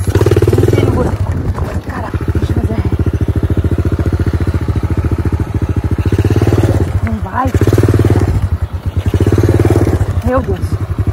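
A small mini motorcycle engine putters loudly up close with a steady rapid chug, revving a few times while someone speaks over it, on a dirt trail.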